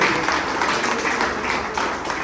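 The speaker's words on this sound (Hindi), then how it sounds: "उनके सम्मान में भी जोरदार तालियां बजनी चाहिए" A crowd at a Jivandan Group training camp in Amgaon, Maharashtra gives loud, continuous applause, many hands clapping in a thick, even wash with no talking.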